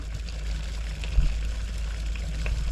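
A pot of boiling water for cooking taro gives a steady low bubbling rumble with a few soft pops, heard close and alone.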